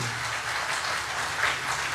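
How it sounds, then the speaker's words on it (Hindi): Audience applause at a Uttarakhand government event where the chief minister meets beneficiaries of a self-employment scheme, a steady dense wash of clapping lasting throughout, moderately loud and even. "एक बार जोरदार तालियां इस"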